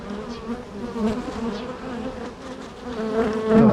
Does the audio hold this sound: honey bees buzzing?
yes